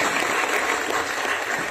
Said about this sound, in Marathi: तुम्हा सगळ्यांकरता जोरदार टाळ्या होऊन जाऊ द्या